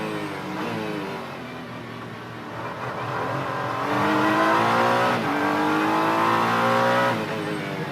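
A GT race car at COTA accelerates out of a corner, its engine note climbing through rising revs with gear changes, loud and close as it pulls away.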